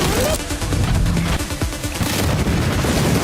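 Gunfire in the mobile game Blue Archive pours out as dense, continuous automatic fire mixed with heavier booms, loud and close throughout, with a voice talking briefly over the shooting.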